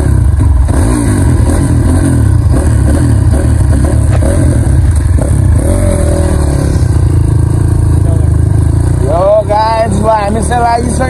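A motorcycle engine rumbles and revs close by, with clatter and road noise throughout and people talking over it near the end.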